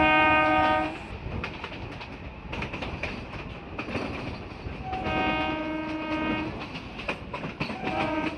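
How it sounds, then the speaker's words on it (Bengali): A local train on the Sealdah to Diamond Harbour line rolls into Ballygunge station, with loud sustained horn blasts at the start and again midway over steady wheel clatter and rumble, close by and without talk. "আমাদের ট্রেন ঢুকছে বালিগঞ্জ স্টেশন।"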